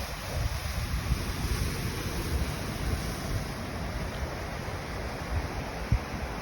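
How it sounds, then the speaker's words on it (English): Steady, continuous rush of water pouring out below the cascading Bad Gastein waterfall in winter, a dense broadband roar that fills the whole clip at a constant level, with no talking. "And the water's coming out down there too."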